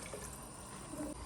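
Mutton soup poured over soaked rice for biryani gives a brief, quiet liquid trickle and splash, lasting only a moment.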